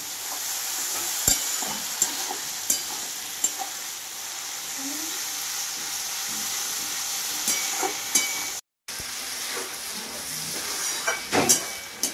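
Spices fry in a pan with a little water, giving a steady hiss and sizzle, punctuated by sharp clinks and scrapes of stirring throughout, with a brief dropout near the end.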